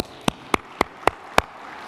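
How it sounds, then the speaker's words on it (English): Applause at a conference plenary session: five crisp, evenly spaced hand claps ring out close and clear against a quiet room, each sharp and separate. "So give yourself a warm round of applause."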